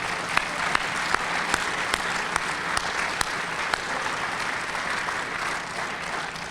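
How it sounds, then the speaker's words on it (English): Steady audience applause fills a hall of fame ceremony, broad and continuous, with a few sharper individual claps standing out near the front. "Could we give a round of applause for the Medina City Schools Director of Communications, Amy Busby, for all of her hard work?"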